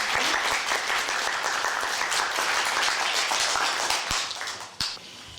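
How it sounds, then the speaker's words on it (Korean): An audience at a Korean-language speech contest for foreign workers applauds steadily for several seconds, dense clapping that tapers off near the end, with a couple of louder thumps. "여러분 박수로 환영해 주시겠습니다"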